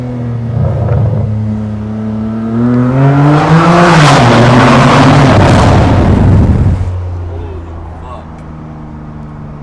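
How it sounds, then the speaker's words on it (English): BMW fitted with a Midwest Bimmer straight-pipe cat-back exhaust revs hard at a riverside car meet, a loud, close, rising roar that peaks and drops back to a throbbing idle. "I'm really happy with this new exhaust, bro."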